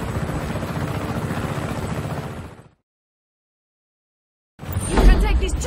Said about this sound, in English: You can take this chopper, Protre.